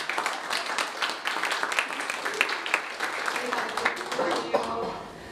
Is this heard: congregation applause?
yes